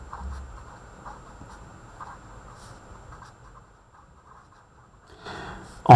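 Hand writing out an equation, faint scratchy pen or pencil strokes in short irregular bursts in a quiet room, ending with a louder knock.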